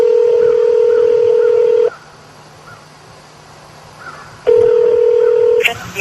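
Touch-tone telephone dialing: a loud run of rapid keypad beeps, a pause of near silence, then another burst of dialing tones ending in a click.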